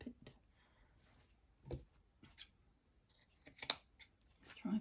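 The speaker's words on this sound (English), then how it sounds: "Let's snip it." Scissors snip through lace during a junk-journal craft session: a handful of brief, crisp cuts spaced irregularly, close and fairly quiet, with a soft rustle of the material between snips and no talking.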